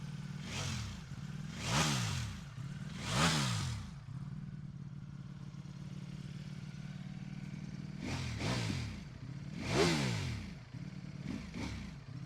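Ducati Panigale V4S with a stock exhaust, idling at a used-bike dealer, then revved in sharp bursts: three rising-and-falling blips, a steady idle, then more quick revs, moderately close and with no talk.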